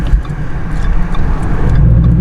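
A Ford Mustang with a faulty slave cylinder and throwout bearing revs while stuck out of gear, its engine droning loud and steady, rising slightly toward the end, with no talk.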